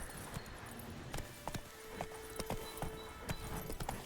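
Roach, a horse in The Witcher 3, clip-clops along with a steady, regular hoof rhythm, each hoof strike clear and fairly close over a soft ambient bed, with no talk.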